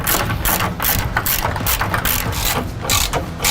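A ratchet spins out 15 mm skid plate bolts under a 2011-16 Ford Powerstroke 6.7L crew cab truck, making a loud, continuous, fast clicking that runs steadily at close range.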